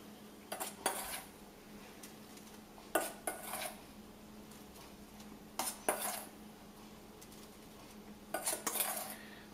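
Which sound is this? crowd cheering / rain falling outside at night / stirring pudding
stirring pudding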